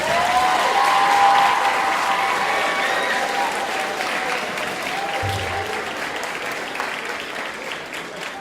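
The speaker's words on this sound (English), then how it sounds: "Can we give them another round of applause, please?" Steady applause from an audience at a school Black History Month assembly, sustained clapping filling the room for the whole stretch, with faint voices blended in beneath it.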